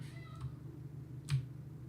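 A pet cat meows once or twice over a steady low hum of background game music, the calls short and moderately close, with a brighter cry near the middle.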